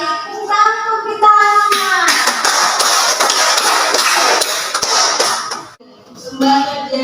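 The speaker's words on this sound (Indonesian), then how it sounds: "Hebat sekali, tepuk kita." A classroom of children clap together in a dense, lively burst lasting several seconds. A voice speaks briefly before and after the applause.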